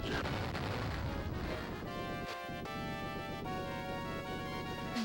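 Bombs going off in the Sega Genesis game Beyond Oasis, layered over continuous game music with tonal lines, the blasts blending into a dense, steady electronic bed rather than standing out as sharp separate booms.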